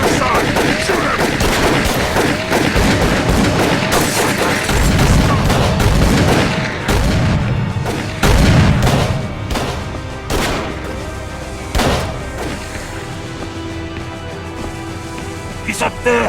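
Gunfire from the video game Call of Cthulhu: Dark Corners of the Earth, with loud repeated shots and bursts mixed into music, in-game effects and shouting voices throughout.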